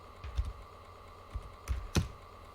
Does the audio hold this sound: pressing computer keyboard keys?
yes